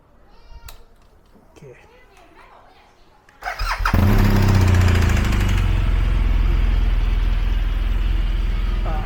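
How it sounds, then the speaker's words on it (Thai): A BMW R1200GS motorcycle engine cranks and catches, then settles into a steady, loud idle; quieter ambient sounds and faint voices come before it starts. "เดี๋ยวเราจะเริ่มสตาร์ทเครื่องยนต์ละ"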